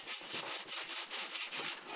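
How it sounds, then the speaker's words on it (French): Varnish being sanded off a Citroën Traction Avant steering wheel: a close, steady back-and-forth rasping scrub in quick repeated strokes, with no talking. "c'est le ponçage et puis on va pouvoir commencer à poncer vernis"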